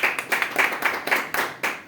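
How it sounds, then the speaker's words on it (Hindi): Audience clapping at a company gathering, a steady run of sharp hand claps with no voices over it. "अपने आप के लिए एक जोरदार ताली बजाएं।"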